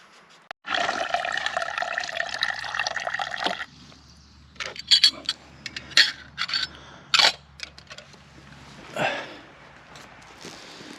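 At a woodland bushcraft campsite in the morning, water pours steadily into a kettle for about three seconds, followed by scattered clinks, scrapes and drips as it is set up.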